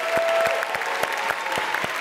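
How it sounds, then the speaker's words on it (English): Audience applause fills a high school commencement ceremony at George Mason High School, a steady dense clapping from a large crowd with a few sharper claps standing out, continuous throughout. "So a round of applause for our colleagues at the other schools."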